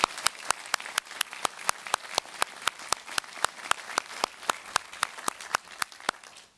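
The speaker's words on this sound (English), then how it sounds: "Let's give them a round of applause as well." Steady applause for a concert band at a university commencement ceremony, a sustained wash of many hands clapping with sharp regular claps standing out near the front, moderately loud and without talk.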